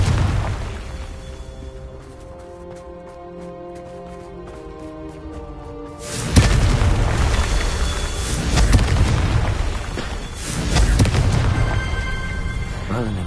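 Confringo spell explosions in the video game Hogwarts Legacy: after a quieter shimmering lead-in, a sudden heavy blast bursts out, followed by two more rumbling booms in quick succession.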